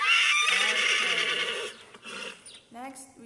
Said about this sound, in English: Okay, next we have horse.